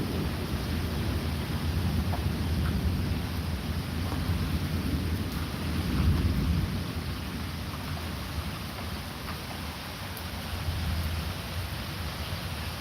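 A thunderstorm with low rumbling thunder swelling and fading under steady rain, heavy and continuous, with no voices.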